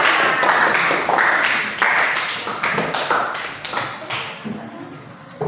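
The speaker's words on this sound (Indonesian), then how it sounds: "Kasih aplaus untuk kelompok 4." Scattered hand claps from a classroom audience applauding group 4 after a student presentation, a dense burst of uneven claps that thins out and fades over several seconds.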